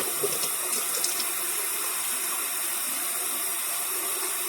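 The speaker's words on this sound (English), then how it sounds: "Rinse this all the way through." Tap water runs steadily into a sink while a Thanksgiving turkey is rinsed, making a constant close hiss of flowing water with no voices over it.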